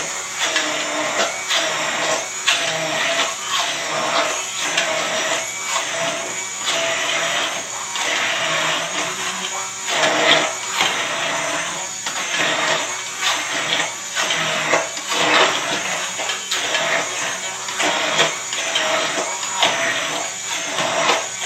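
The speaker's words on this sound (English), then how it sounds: "I'll just keep blending until it becomes a really nice and creamy" A blender purees cauliflower mash with chicken stock, giving a steady, loud motorized whir with pulsing changes in load that runs throughout, with no talking over it.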